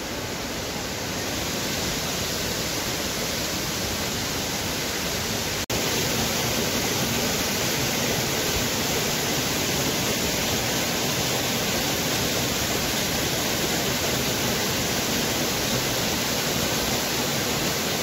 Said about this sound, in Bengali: এই যে ঝর্ণার আওয়াজটা না, এটাই কিন্তু সব থেকে সুন্দর।